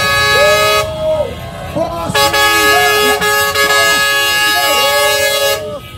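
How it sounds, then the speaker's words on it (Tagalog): Several car horns honk repeatedly at an anti-corruption street protest in the Philippines, overlapping in long and short blasts, loud and close, with a crowd's voices underneath. "Bumusina kayo."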